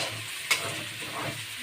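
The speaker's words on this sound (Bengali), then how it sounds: "পেঁয়াজটা ভাজা ভাজা হয়ে এসছে।" Onion frying in a pan with a ginger, garlic, cumin and chilli paste gives a soft, close sizzle with one quick scrape of stirring, all fairly quiet and brief.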